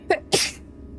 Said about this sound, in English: It's always 2 sneezes for me for some reason.